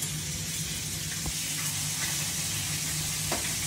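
Onion and garlic frying in oil for Filipino paksiw, a steady close sizzle and hiss running throughout with a faint low hum underneath and no talking.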